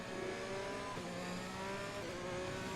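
Formula 1 video game cars' engines roar steadily with a dense mechanical drone and shifting pitch, loud and continuous, with no distinct impact standing out, as one car brakes and is hit from behind.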